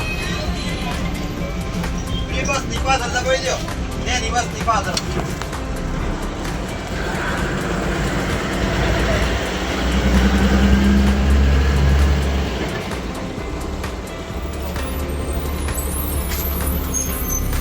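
A bus interior on the ride to Piloda, with a steady engine rumble, road noise and a hissing air-brake burst, while people talk throughout.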